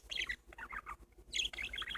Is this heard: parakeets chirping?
yes